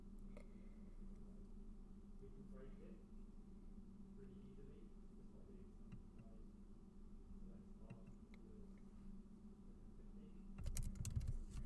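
Light typing on a computer keyboard: faint, scattered key taps over a steady low hum, quiet and close, with a louder clatter at the very end.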